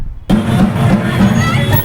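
Crowd of BJP party workers celebrating Navneet Rana's Lok Sabha candidacy for Amravati at Rajkamal Chowk, a dense, loud hubbub of cheering voices that bursts in after a brief silence and continues steadily.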